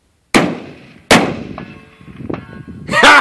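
A Mosin Nagant rifle fires at a steel target 300 yards away on an outdoor range: two sharp, loud reports about a second apart, then a faint lingering metallic ring and some low rustling before a burst of noise at the end.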